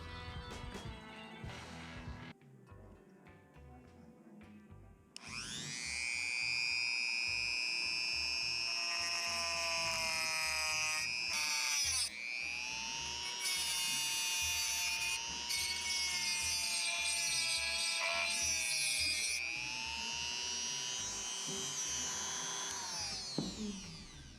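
A power tool cuts down M6x40 long nuts with a high, harmonic whine that runs for nearly twenty seconds. The pitch dips and recovers briefly as the load changes, and a short quieter passage comes first.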